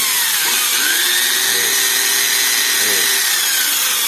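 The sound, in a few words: grinder modifying lower control arm for coilovers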